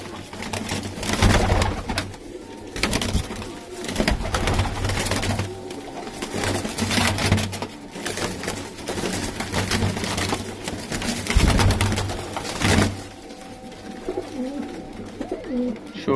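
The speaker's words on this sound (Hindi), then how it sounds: "ठीक है जी, पीले जालों के कबूतर" Pigeons, yellow-netted high-flyer birds kept for sale, coo repeatedly in a low, throaty rhythm, close and fairly loud, with broadband ambient noise around them throughout.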